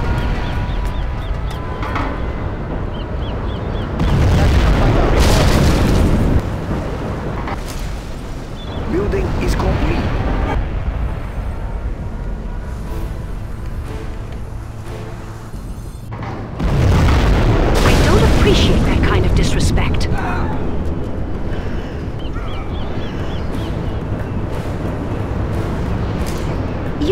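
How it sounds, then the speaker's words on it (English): Huge booming blasts from a nuclear missile strike in the strategy game C&C Generals roll out in two heavy surges, with rumbling aftershocks between them and game voice lines spoken over parts of the sequence. "We have launched our nuclear missile."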